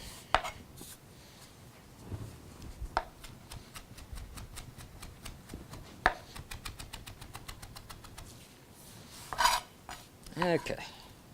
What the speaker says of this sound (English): And you do want to cut this up pretty fine.